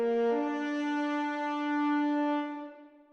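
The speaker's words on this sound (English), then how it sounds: "So here's the normal kind of, you know, long note." Horns sustain a normal long note, a clean harmonic tone that shifts slightly in pitch at the start, then holds steady and fades out near the end, with no talking.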